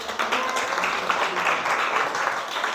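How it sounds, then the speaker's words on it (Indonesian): Students in a classroom guidance lesson clap their hands together, a dense, steady patter of many hands filling the room for a few seconds without a break. "Tepuk tangan dulu dong."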